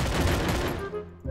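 Rapid bursts of gunfire from a Free Fire match, loud and close, a dense volley that thins out toward the end before another shot cuts in.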